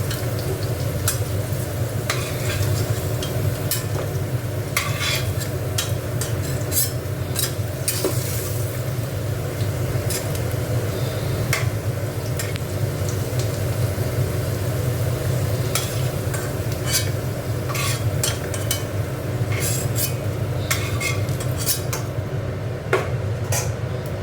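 Potato pieces fry in hot oil in a pan while a fish curry is being prepared, giving a steady, close sizzle that runs throughout, with scattered light scrapes and clinks of stirring.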